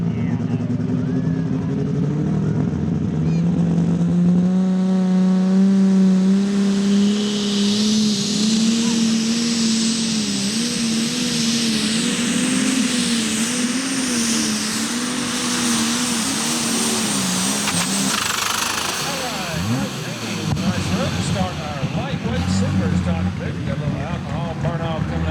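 Alcohol-fueled D21 pulling tractor named Cujo Unleashed roars loudly and steadily through a night pull at Ardmore, Tennessee, its engine pitch wavering and climbing before cutting off near the end, with an announcer talking over it.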